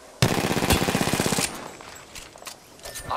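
Rapid automatic gunfire in a ranked online shooter game, a loud burst of evenly spaced shots for about a second, followed by quieter in-game clatter and faint movement sounds.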